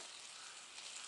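Bacon sizzles in a cast iron pan at a creekside campsite, a steady close hiss of crackling grease with no pause.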